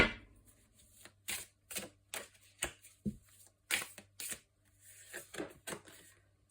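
Tao tarot cards being shuffled for a card draw, giving a series of quick papery riffles and slaps in irregular bursts, fairly close and soft, with no talking.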